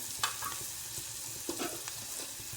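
Onions fry in a pan for a dal-onion dish made with sprouted moth beans, giving a continuous close sizzle with a few soft stirring scrapes and crackles, no talking.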